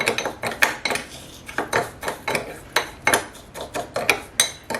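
A sugar, honey and lemon lip scrub being mixed in a small bowl, with a quick run of sharp clinks and scrapes as a spoon strikes and drags against the bowl in a steady rhythm up close.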